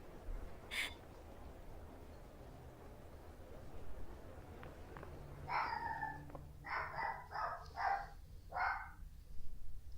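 A dog barks in the video game Persona 5: a handful of short, sharp barks in a quick irregular burst, moderately loud over a low steady background hum.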